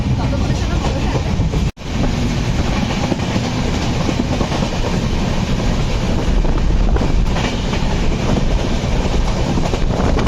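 Jammu Tawi Express running on its line, heard as a loud, steady rumble with rhythmic clickety-clack of wheels and wind buffeting, broken by one sharp momentary dropout near the start.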